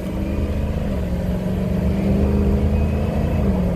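A 2007 Ford F-250 4WD Lariat with a 6.0L Powerstroke diesel pulls away from a stop at full throttle, its deep engine roar building steadily and loud from inside the cab.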